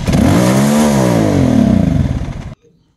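A Big Boy TSR 250 motorcycle with a newly replaced throttle cable revs hard, loud and close, its engine pitch swinging up and down before it cuts out abruptly into near silence.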